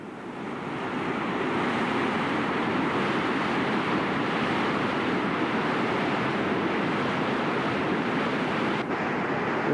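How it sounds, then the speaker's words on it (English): Marble Creek Rapids rushing just below a campground, a broad continuous roar of whitewater, loud and steady with no voices over it. "Here's the rapids."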